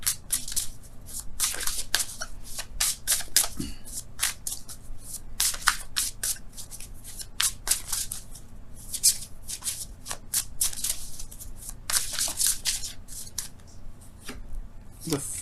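Tarot cards are shuffled by hand in rapid, repeated riffles and crisp slaps, close and busy, with occasional speech around them.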